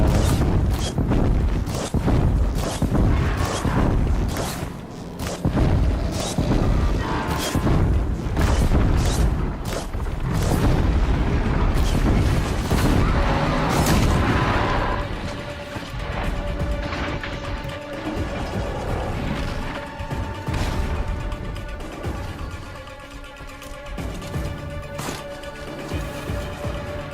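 Fire attacks explode against a robotic machine creature in Horizon Zero Dawn, a rapid barrage of loud crashing blasts and booms that later thins into ringing, crackling burn effects with tonal game sounds, almost no talk.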